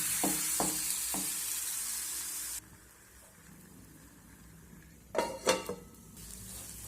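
Tiffin dough pressed and fried in a pan with little oil: a steady sizzle with a few sharp scraping taps at the start, a quieter stretch, then a burst of clattering spatula knocks near the end, no talking.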